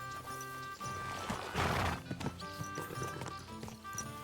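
Horse in the medieval video game Kingdom Come: Deliverance, a clear neigh followed by hoof clip-clops, close and distinct with no talk over it.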